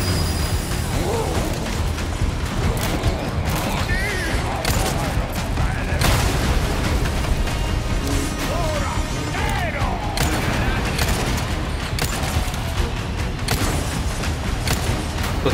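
Gameplay from Resident Evil 4 Remake fills the stretch with gunfire, bursts and booming explosions mixed with mechanical clanks and creaks, loud and nearly continuous, with the player's voice speaking intermittently over the action.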